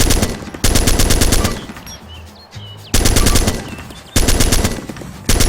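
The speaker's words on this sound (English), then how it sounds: "The full auto mode fires bullets while the trigger is pulled until the clip is empty." Full-auto gunfire on a shooting range in the video game Arma 2 Operation Arrowhead comes as three long, loud, rapid bursts separated by short pauses with faint background sound.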